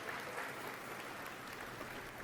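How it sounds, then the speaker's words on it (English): A crowd claps at a game tech showcase event, a soft, distant wash of steady applause at a low, even level without any talk. "Applause"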